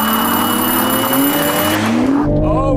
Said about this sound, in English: just roasted the rear tires, but it did launch better